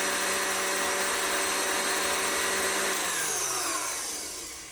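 An electric hand mixer whirs steadily as it beats a simple cake batter of eggs and flour, a loud continuous motor drone that winds down toward the end.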